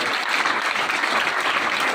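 Hearty audience applause for a student at a school lecture, a brief, dense burst of many hands clapping at a steady loudness.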